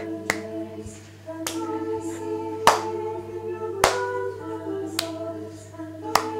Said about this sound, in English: we're going to stretch the arms up and just clap above your crown